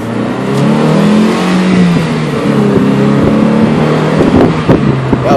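A car engine revs loudly and close by, its pitch rising and falling in a sustained roar with a few sharper spikes near the end.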